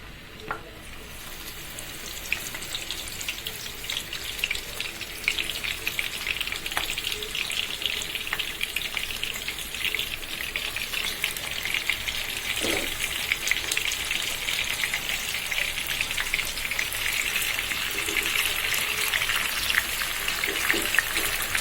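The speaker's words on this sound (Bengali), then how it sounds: "আমি রুই মাছগুলো তেলে ভেজে নিচ্ছি" Rohu fish pieces fry in oil in a pan, giving a steady, dense sizzle and crackle that holds at an even level for about twenty seconds, close up, with no voices.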